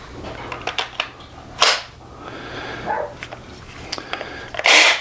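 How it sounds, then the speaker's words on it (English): An 18V battery snaps into a Makita XVJ03Z cordless jigsaw, heard as sharp plastic clicks and clacks close by, ending in one louder click, with no speech. "And we'll pop the battery in."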